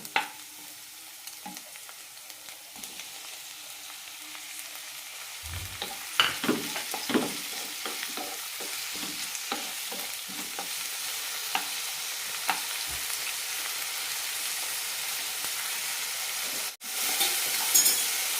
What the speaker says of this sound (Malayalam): സവാള ഇത്രയും ആയാലും മതി ഇനി ഇതിലേക്ക് തക്കാളി ഇടാം